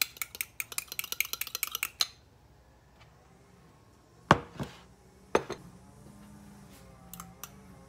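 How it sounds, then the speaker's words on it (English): Buttermilk and melted butter are whisked together in a bowl for homemade cornbread, starting with a quick run of light rhythmic utensil clicks, then a quieter pause and a few sharper taps against the bowl. "And now we're going to mix the liquid ingredients together"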